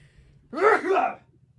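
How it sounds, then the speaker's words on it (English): One sudden sneeze bursts out over a quiet low hum, brief and fairly loud, with no talking around it. "that was my dad's sneeze"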